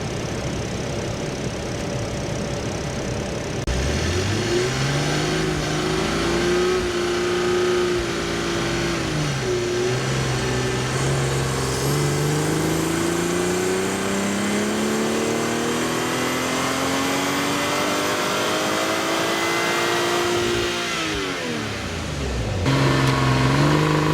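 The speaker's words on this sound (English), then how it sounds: "it's time to bolt it onto the dyno and run it up" A Toyota GR Supra B58 engine with a RaceChip revs steadily upward on a dyno for a long, loud run, pitch climbing and dipping between pulls, then drops sharply before revving again.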